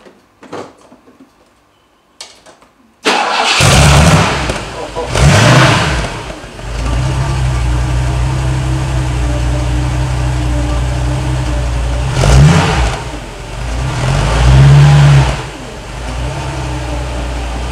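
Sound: car engine revving

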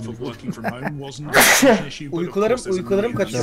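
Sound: sneeze

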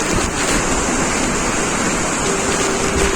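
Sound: waterfall at Gharpi Dhavlar, Sawantwadi

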